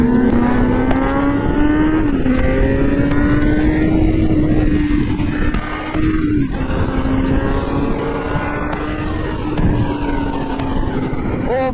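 KTM and Kawasaki motorcycles racing fast along a road, one with a worn tire, make a loud, steady engine drone that rises and dips in pitch for the whole stretch, with rushing wind noise.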